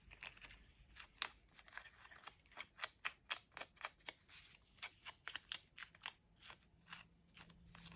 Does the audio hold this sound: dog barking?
no